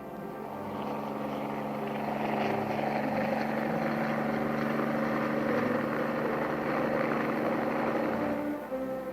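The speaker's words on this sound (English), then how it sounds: "a whirlybird's even more at home in mountainous and jungle terrain than a mule is" A continuous droning engine with rhythmic rotor thrum, swelling slightly and holding steady, like a 1950s U.S. Army helicopter passing nearby.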